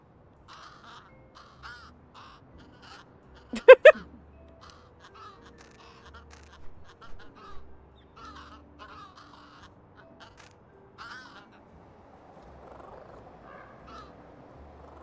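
A crow caws in the cat adventure game Little Kitty, Big City, giving a sharp, loud double call early on amid soft scattered game chirps and clicks, with a low rumbling texture near the end.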